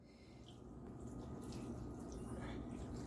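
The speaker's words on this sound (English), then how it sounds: "just a little bit of water just to help with the steaming" Water poured into a pot for steaming red snapper, a steady close splashing trickle that runs continuously and grows slightly fuller partway through, with no voices over it.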